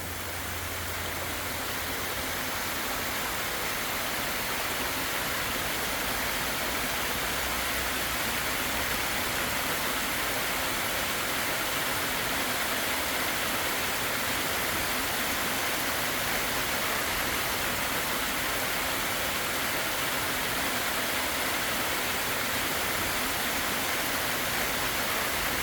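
A small bush waterfall swollen after heavy rain rushes steadily, a dense, continuous roar of water that stays close and loud the whole time, with no voices.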